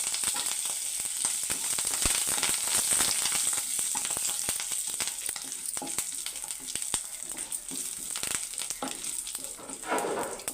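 Green chillies and curry leaves fry in hot oil for a spice tempering, giving a steady, close, crackling sizzle with sharp pops throughout and no talking.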